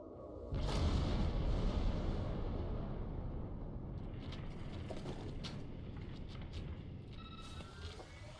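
A protomatter detonation in the Star Trek Online video game: a sudden broad blast followed by a long, low, steadily fading rumble with faint mechanical clicks, heard quietly and without voices.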